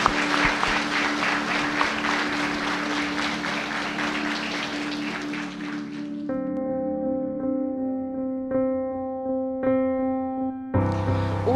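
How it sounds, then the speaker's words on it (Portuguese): Guests at a wedding ceremony applaud, a dense burst of clapping that fades out around the middle, giving way to sustained instrumental tones before a sudden return of sound at the end. "Uma salva de palmas."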